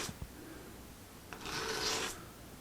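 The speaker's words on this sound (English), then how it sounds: "I'm going to scuff the heck out of the sides of these with some emery cloth here" Emery cloth rubbed briskly across the sides of a workpiece to scuff it before epoxy in a woodshop, a soft close rasping with a couple of light taps and a louder stretch of abrasion near the middle.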